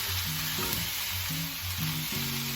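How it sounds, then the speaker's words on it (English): Pizza omelet vegetables simmer and sizzle in a pan with a steady, dense hiss, while a low tonal hum pulses underneath throughout. "We just want to simmer this for about 2 minutes."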